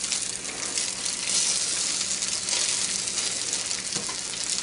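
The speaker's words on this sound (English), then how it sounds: "So we're gonna go ahead and load these into the skillet." Salmon patties sizzle in a cast iron skillet over medium heat, a steady hiss close by with no talking.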